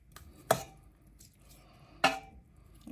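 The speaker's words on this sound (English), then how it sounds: "so let's get this all chopped up" Ripe, juicy tomatoes chopped on a board for Jamaican brown stew chicken, with two sharp, distinct knife chops about one and a half seconds apart over a quiet background.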